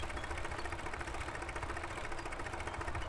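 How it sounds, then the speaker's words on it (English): A 160-horsepower tractor engine in Farming Simulator 2017 drones steadily and loudly, a continuous mid-pitched running rumble with a faint rhythmic chug and no pauses. "This isn't got a big engine. This is only 160 horsepower, I think."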